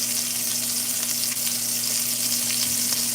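Ribeye steak fries in a hot pan with a steady, crackling sizzle, close and fairly quiet, with a low constant hum beneath and no voices.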